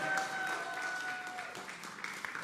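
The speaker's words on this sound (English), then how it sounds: "Round of applause," Modest applause from an afternoon audience for a pianist at a dialogue event, a soft scattered patter of clapping heard from some distance with a faint sustained tone in the background.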